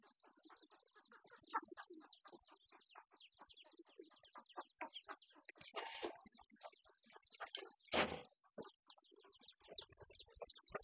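Pigeons inside a loft, a dense run of soft coos, clucks and chirps close by, with a couple of brief louder rustling bursts partway through.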